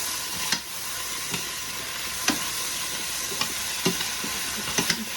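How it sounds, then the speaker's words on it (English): Vegetables for chicken chow mein sizzle steadily in a hot pan on a stovetop while a utensil stirs them, with occasional sharp scrapes and clacks against the pan standing out over the constant frying hiss. "Sauteing this. I don't want it to sweat, that's why I keep stirring it."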